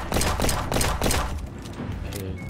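Sniper and other gunfire in the Roblox Jailbreak video game, a loud burst of rapid reports early on that thins into scattered softer shots.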